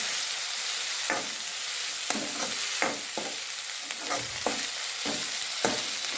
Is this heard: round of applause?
no